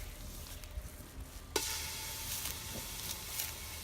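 Chicken is dropped into a hot pot over a campfire and bursts into a sudden sizzle that keeps crackling and hissing, with faint stirring sounds, fairly quiet and without talk.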